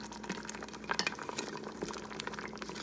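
Crab curry gravy being stirred in an Instant Pot, with a spoon scraping and clinking against the pot over a low bubbling simmer, in irregular close knocks.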